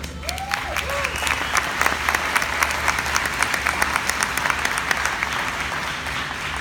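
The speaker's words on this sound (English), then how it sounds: "one more round of applause for Justin." An indoor audience at a corporate company presentation gives a sustained round of applause, dense clapping holding steady for the whole stretch with a few louder individual claps standing out.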